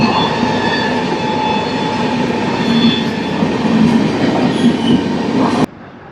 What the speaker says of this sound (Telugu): గరీబ్ రథ్ ఎక్స్ప్రెస్ సికింద్రాబాద్ విశాఖపట్నం గరీబ్ రథ్ ఎక్స్ప్రెస్ ఇది